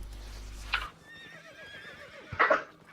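A horse in a video game whinnies twice, its high wavering neighs separated by a short pause, over a faint background hum with a muffled thud.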